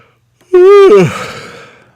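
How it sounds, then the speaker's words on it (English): A single big yawn from a man, a rising voiced stretch that breaks into a long trailing breathy exhale, close and loud, with no talk. "Big yawn."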